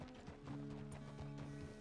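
Horse hooves clip-clopping at a steady walking rhythm in the western game Red Dead Redemption 2, close and clear over a faint tonal background hum.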